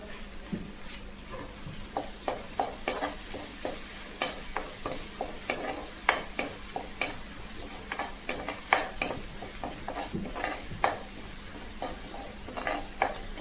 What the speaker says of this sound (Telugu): కొంచెం దోరగా వేగే వరకు వేయించుకోవాలి